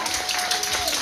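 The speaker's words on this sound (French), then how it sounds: "Applaudissez pour le papa, s'il vous plaît." Audience applause at a cultural gathering, a dense continuous wash of clapping hands filling the whole moment, loud and close.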